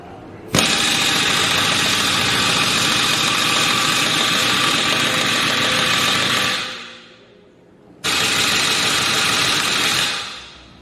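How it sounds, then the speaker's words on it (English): An air compressor runs loud and close, building pressure in a steady mechanical roar for about six seconds, then cuts off briefly before restarting with the same harsh drone. "let the air compressor build up some pressure."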